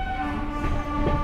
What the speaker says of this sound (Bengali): পুরুলিয়া হাওড়া সুপারফাস্ট ছেড়ে বেরোচ্ছে সাঁতরাগাছি জংশন